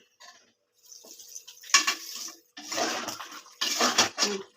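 Water pours and splashes into a pot of cooking chicken pasta in three short bursts, with quiet pauses between and no talking.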